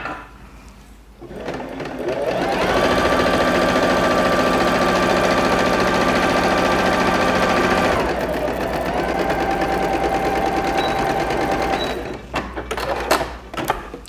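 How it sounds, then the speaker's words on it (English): A sewing machine runs a long continuous stitch along the seam of a garment bag, a steady whirring drone that pauses briefly and resumes, then ends in a few clicks and handling noises. "And now I'm going to sew that long salvaged edge that we talked about."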